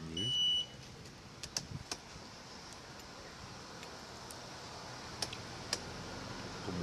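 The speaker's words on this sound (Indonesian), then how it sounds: "cara menghilangkan suara bip-bip atau titit tersebut" A Honda Vario 125/150 scooter's remote key fob gives one short electronic beep near the start, then only faint background clicks and ticks follow.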